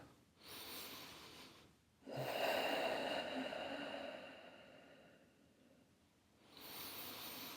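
Slow, deep breaths during a seated yoga pose: a long inhale and exhale, a pause, then another breath starting, soft and close with no talking.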